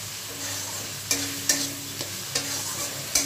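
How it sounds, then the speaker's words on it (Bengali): Spice paste sautéing in oil over a low flame, a steady sizzle broken by several sharp spoon scrapes and stirs against the pan, close and fairly loud, with no voices. "মশলাটা আমি ভালো করে কষিয়ে নিয়েছি তেলের সাথে, 5 মিনিট ধরে কষিয়েছি লো ফ্লেম করে"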